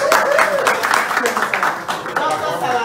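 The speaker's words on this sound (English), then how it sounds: "Doctor, let's give him a round of applause." Crowd at a town hall meeting clapping in a round of applause for a doctor, with voices and chatter mixed in through the steady clapping.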